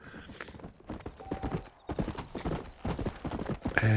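Horse hooves clip-clop in a rapid galloping rhythm in the Red Dead Redemption video game, steady and close, with a brief whinny-like tone near the end and no voices.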